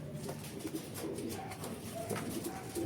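A racing pigeon coos in low, rolling phrases close by, repeating through a quiet room with faint background noise and no voices.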